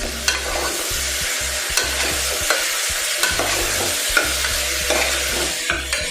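Soya chunks biryani mixture with curd stirred in a hot pan: steady scraping and knocking strokes over a continuous close sizzle, with no voices.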